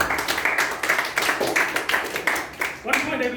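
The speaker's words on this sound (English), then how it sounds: "Then you have a round of applause" Scattered clapping from a small group at a youth leadership meeting, a short uneven round of applause with separate hand claps, with faint talk mixed in.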